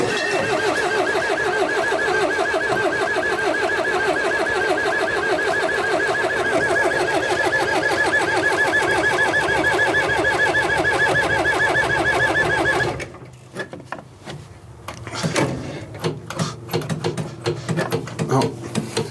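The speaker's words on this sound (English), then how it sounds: "we're gonna go ahead and crank it over and see if we get any life" A Mercedes-Benz O309 bus with an OM314 diesel that has starting problems cranks over with a fast, even mechanical churn for about thirteen seconds without catching, then cuts out, leaving only scattered clicks and knocks.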